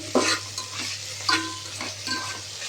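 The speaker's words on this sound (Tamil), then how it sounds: "பார்த்திங்களா, நல்லா கேரட்டு, பீன்ஸு, வெங்காயம், தக்காளி எல்லாம் நல்லா ஒன்று சேர்ந்து வதங்கிருச்சு." Carrot, beans, onion and tomato sauté together in a pan for vegetable biryani, three quick bursts of spatula stirring and scraping over a soft, steady sizzle.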